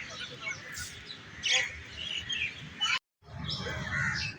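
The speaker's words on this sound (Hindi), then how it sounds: "यहाँ पर बहुत ज़्यादा तोते हैं, चिड़ियाँ हैं, कब्बे हैं, बहुत ज़्यादा परिंदे हैं।" Outdoors, a flock of birds such as parrots and crows gives repeated shrill chirps and squawking calls at moderate distance, with one short cut to silence partway through.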